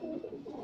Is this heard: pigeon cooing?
yes